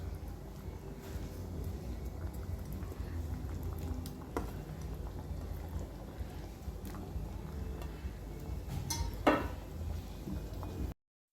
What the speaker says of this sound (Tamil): கிரேவி இப்போது நல்லா கொதிக்கட்டும்